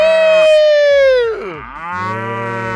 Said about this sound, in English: It's better when you do it with the moo.